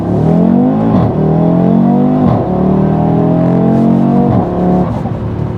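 A front-wheel-drive Honda Civic Type-R (FL5) accelerating hard from inside the cabin, engine note climbing steeply through several gears with brief dips at each shift, loud and continuous with no talking.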